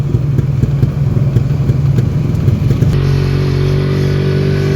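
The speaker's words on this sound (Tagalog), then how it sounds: "Yung unang labas na Kawasaki, pero ngayon Barako na ngayon yung model." An old-model Kawasaki Barako motorcycle engine runs loud and close. Its throbbing exhaust pulses rise and fall with revving, then settle into a steadier drone.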